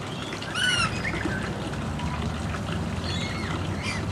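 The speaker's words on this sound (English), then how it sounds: "And there's the crested pigeon." Crested pigeon at a bird sanctuary, with a few short harmonic calls standing out over steady outdoor background noise, one near the start and a fainter one near the end.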